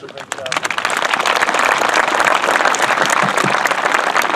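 A graduation audience breaks into loud, sustained applause, dense clapping that rises quickly and holds steady throughout, with some voices mixed into the crowd.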